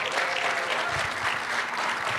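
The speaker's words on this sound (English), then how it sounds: "So give me a round of applause for PGA Works" An indoor audience claps steadily for a PGA Works workforce program at the 2023 PGA Championship, a dense continuous applause without clear speech on top.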